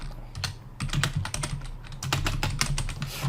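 Typing on a computer keyboard, a close, busy patter of key clicks in quick bursts with short pauses, moderately quiet and without talking.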